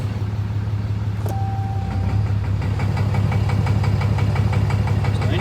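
A 2013 Ram 2500 pickup with the 6.7 Cummins diesel idles and knocks under load, a steady close engine drone carrying a rapid repeating tick-like knock that grows slightly louder partway through, with no talk.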